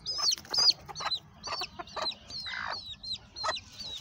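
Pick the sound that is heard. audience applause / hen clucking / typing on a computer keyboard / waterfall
hen clucking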